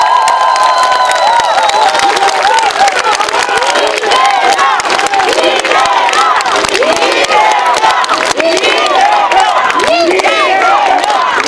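A large crowd at a Korean political rally claps and cheers loudly and continuously, with shouts and whoops layered over dense applause throughout.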